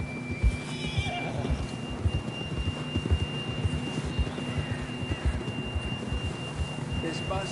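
A horse whinnies in the Red Dead Redemption 2 video game, a moderately faint neigh set against clip-clopping hooves and background game ambience.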